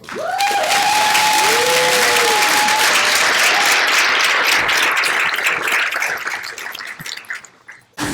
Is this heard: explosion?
no